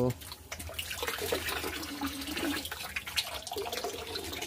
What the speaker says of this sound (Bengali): আর দেখতে পাচ্ছ জল ছেড়ে দিয়েছি।